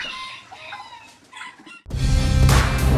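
Chickens cluck and a rooster crows at a Tangail poultry farm keeping 27 breeds; faint calls come first, then a sudden loud, dense burst of crowing and clucking fills the rest.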